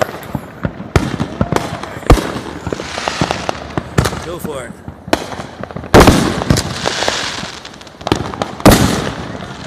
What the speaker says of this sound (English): Keep the firework.